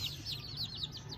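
Rapid high-pitched peeping chirps repeat steadily over a low background rumble, like small chicks calling close by.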